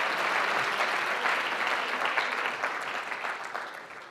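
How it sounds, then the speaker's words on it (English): A large audience applauds entrepreneurs at an evening event, a dense, steady wash of clapping that holds strong for about four seconds before beginning to taper off, with no speech over it. "let's give one more round of applause to all these amazing entrepreneurs we've heard from tonight."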